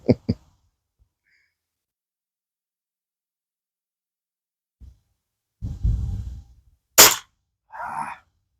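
Hatsan air rifle pellet shots outdoors. Two sharp close cracks come at the start, then a faint thump, a rustling burst, another sharp snap and a brief mid-pitched noise, separated by long silences.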